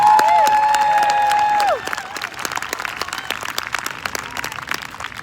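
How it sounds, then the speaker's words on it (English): Audience applause and cheering at a women's town hall, opening with bright whistle-like tones over the crowd before settling into steady, fairly close clapping that runs to the end. "Ladies, give them a round of applause again."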